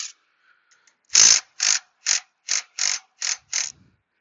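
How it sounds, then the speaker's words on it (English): A Milwaukee stubby impact wrench on 15 mm fasteners during a water pump replacement on a 2016 Chevy Cruze 1.4L turbo fires seven short, close, evenly spaced rattling bursts. "Using this stubby from Milwaukee"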